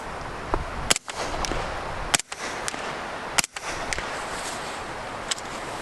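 Suppressed 9x19 Luger submachine gun fires several quiet, sharp shots spaced about a second apart. Each shot is a crisp crack over a steady background hiss.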